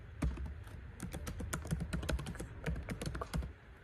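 Fast, light keystrokes on a computer keyboard as a URL is typed into a curl command, a continuous quiet patter of clicks close by.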